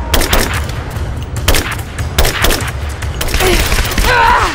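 Gunfire in Rise of the Tomb Raider cracks out in a series of sharp, loud bursts spaced irregularly over a few seconds, close and punchy, like a short firefight exchange.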